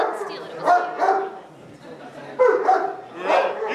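A dog yips and barks in short excited bursts amid chatter and talking voices at a village board meeting, the barks close and repeated through the noise.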